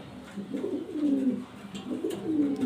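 White imported pigeons at a bird exhibition coo in two rising-and-falling phrases, close and clear, with a soft murmur of background noise between calls.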